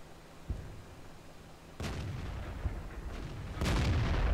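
A tank cannon fires in the World of Tanks video game, with sharp booming shots and heavy blasts cutting over steady engine rumble and ambient battlefield noise.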